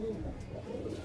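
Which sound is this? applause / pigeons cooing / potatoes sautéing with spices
pigeons cooing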